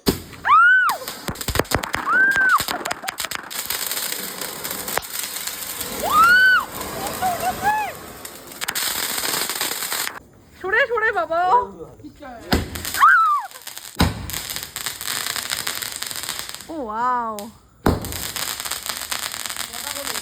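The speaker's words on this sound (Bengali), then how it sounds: "তারপর সেই রাতে সবাই মিলে বাজি ফাটালাম আর অনেক মজা করলাম।" Firecrackers and fireworks burst at night during a festive gathering, with repeated sharp bangs and whistling rockets rising through the clip while people talk and exclaim over them.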